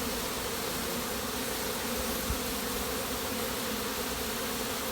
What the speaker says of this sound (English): 5 minutes for the bees to pour out of the hive